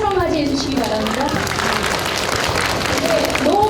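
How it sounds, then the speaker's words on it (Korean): A lecture audience applauding to welcome a speaker, with dense, steady clapping throughout and a voice speaking over it. "큰 박수로 맞이해 주시기 바랍니다."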